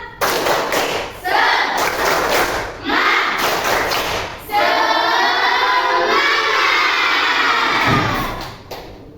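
A school class performs a rhythmic tepuk semangat chant, children's voices shouting in unison with bursts of clapping and thumps, loud and close in a classroom.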